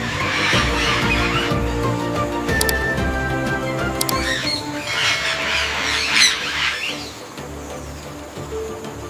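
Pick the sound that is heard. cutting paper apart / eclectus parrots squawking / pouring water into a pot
eclectus parrots squawking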